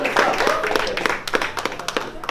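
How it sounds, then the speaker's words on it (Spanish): Audience clapping for instructors at a martial-arts cardio fitness class, a burst of hand claps mixed with cheering voices and an instructor talking over it. "un aplauso para los chicos de New Jersey"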